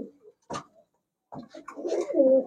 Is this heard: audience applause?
no